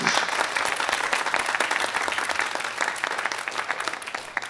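Warm, continuous applause from a large audience fills the space, many hands clapping densely and evenly with a light crowd murmur underneath.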